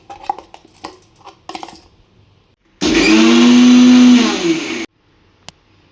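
A mixer grinder blends spice paste with water for a Nellore fish curry, giving a loud two-second whirring burst of the motor after a few light kitchen knocks and clatters.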